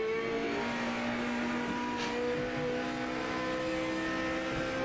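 An old GT500 race car in Project Motor Racing accelerates in third gear with a steady, loud engine drone whose pitch climbs smoothly and keeps rising.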